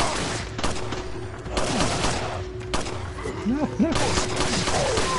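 Bursts of gunfire ring out in Resident Evil 4 while playing as Ada, several loud rapid volleys separated by short gaps, with a voice speaking briefly between shots.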